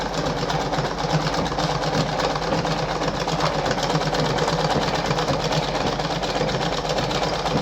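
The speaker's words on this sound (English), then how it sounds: "See the machine going back and forth" A Singer 5107 sewing machine runs steadily stitching fabric in an overlock stitch, a close, continuous mechanical whir and rattle with no talking.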